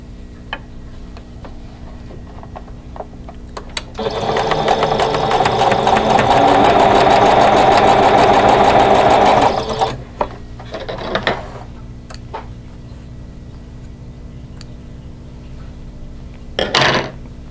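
A sewing machine stitches the last quilt pieces of a scrap-fabric block, a steady close mechanical whir lasting about six seconds, with small handling clicks and taps before and after it.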